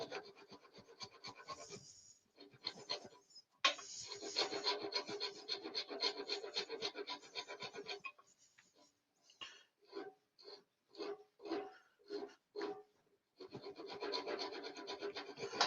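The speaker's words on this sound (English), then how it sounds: "a flat rasp, and you can come in and just flatten that a little bit while it's on the lathe" A flat rasp works a turned wooden piece spinning on a lathe, giving close, rough rasping strokes: long continuous passes, then a series of short separate scrapes, then another sustained pass.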